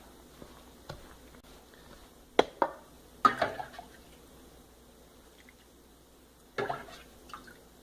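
A Danish dough whisk working through sticky sourdough rye dough in a bowl, making a few soft wet squelches and scraping clicks at irregular intervals, quiet and close.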